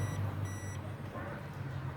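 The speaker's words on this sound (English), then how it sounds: "That beep is not continuity. That is just the multimeter deciding to beep." A multimeter emits a short, faint electronic beep, repeated twice as thin tones over a low background hum during electrical testing on a 2007 Nissan Wingroad.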